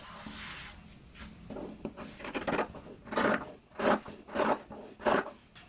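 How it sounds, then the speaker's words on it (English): Scissors trimming fabric seam allowances on a sewn jacket collar produce a series of close crisp snipping and rasping cuts, quickening into regular strokes toward the end, with no talking. "we want to go ahead and trim our seams"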